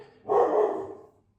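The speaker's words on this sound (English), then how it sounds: "That's my dog Raindrop" A single loud, close bark from a pet dog indoors, one sharp woof that trails off in about a second.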